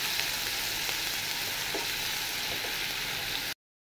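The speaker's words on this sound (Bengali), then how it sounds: "পেঁয়াজ রসুনটাকে সুন্দরভাবে ভেজে নেব" Onion and garlic paste fries in hot oil with a bay leaf, a steady close sizzling hiss with a few soft stirring sounds, cutting off abruptly before the end.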